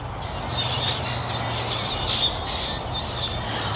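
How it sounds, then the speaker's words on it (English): Light bird chirps and tweets scattered through a steady outdoor morning hum, faint and fairly distant, with no talking. "You hear all the birds showing up now?"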